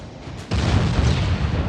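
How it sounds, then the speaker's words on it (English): A torpedo exploding against a warship's hull in Ultimate Admiral Dreadnoughts: quiet at first, then a sudden loud blast that becomes a sustained, heavy roaring rumble. "if you get a good shot that goes through the water and explodes next to the hull, or manages to bonk the main deck hard enough, you can get a really nice explosion in there"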